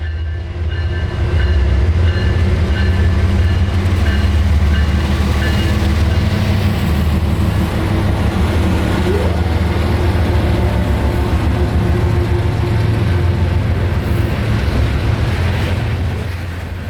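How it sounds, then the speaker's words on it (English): A heavy freight train rumbles past close by at night in Lakeland, Florida, a deep continuous roar with rhythmic wheel clatter over the rails that persists throughout. "I hear the dispatcher talking to a train giving them permission into Park Spur."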